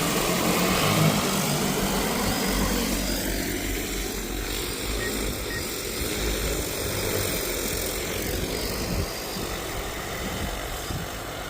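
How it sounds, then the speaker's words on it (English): A farm survey drone's motors spin up for takeoff with a steady, loud whirring drone that holds level throughout, close by and with no talk over it. "Aircraft preparing to take off."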